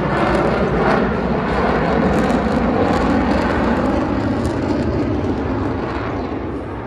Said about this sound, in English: As all four aircraft converge on center point with maximum